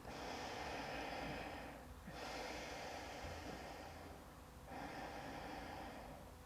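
Slow, deep breaths through the nose during a yoga session, heard as long airy inhales and exhales separated by short pauses, close but very faint.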